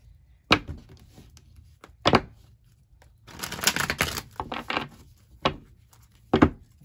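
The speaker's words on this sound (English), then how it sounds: "I need to shuffle these a couple more times." Tarot cards shuffled close by in a quiet room: a few sharp taps of the deck, then a short riffling burst and more scattered knocks.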